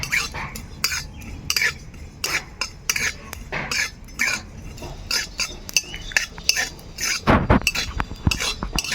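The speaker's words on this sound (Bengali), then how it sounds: "জিরা ভেজে নেব।" A spoon scrapes and clinks repeatedly as cumin seeds are dry-roasted in a metal karahi, with uneven metallic taps and rattles close by.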